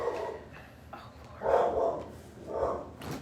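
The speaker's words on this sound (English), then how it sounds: "Sorry if you can hear our dog." A pet dog barks indoors, probably from a window, in three or so muffled yelping bursts spread over a few seconds, moderately loud against a quiet room.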